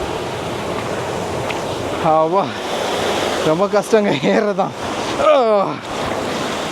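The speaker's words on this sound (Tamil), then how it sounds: "தண்ணி எப்படி விழுதுன்னு உங்களுக்கு காட்டுறேன் பாருங்க" A waterfall at Kurangani in Tamil Nadu's hills pours and splashes with a steady broadband rush throughout, while someone speaks over it in short phrases.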